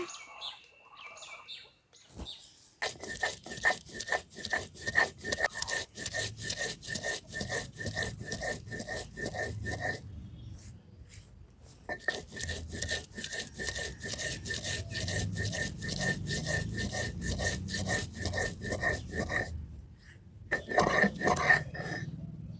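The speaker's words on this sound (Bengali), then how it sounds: "এই রেসিপিটির জন্য একটা মশলা বেটে নেবো" Whole black peppercorns and cumin seeds are ground into paste by hand on a grinding stone, a steady rhythmic rasping scrape repeated in two long runs with a short pause between, close and fairly quiet.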